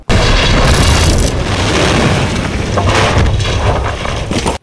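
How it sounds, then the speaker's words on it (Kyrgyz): A bomb explosion roars and rumbles for several seconds, dense and booming throughout before cutting off abruptly. "Бир маалда жарылуу болуп"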